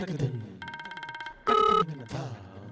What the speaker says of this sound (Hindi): लगता है तेरी सास का फोन है।